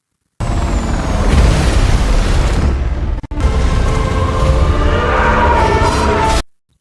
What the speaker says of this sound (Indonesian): Akhirnya pesawat dia jatuh dan meledak.